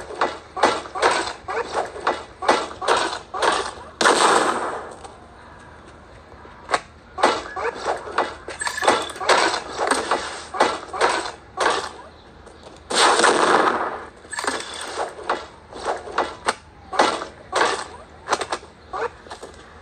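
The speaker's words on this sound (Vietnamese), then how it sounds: "Bắn pháo với chúng tôi này, ok." Cannon fire in a mobile video game: a rapid series of sharp, loud booming shots in irregular bursts, with brief lulls between volleys, close and dominant throughout.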